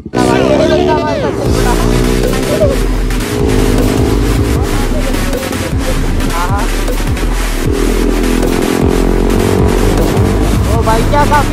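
A convoy of motorbikes on a Sunday ride near Shimla, engines droning loudly and close with rising and falling revs as the group rides together, with a rider talking over the noise.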